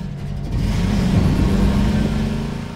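A car engine in the game Half-Life 2 starts and settles into a steady mid-pitched hum that swells slightly, continuous and fairly close, with no talking.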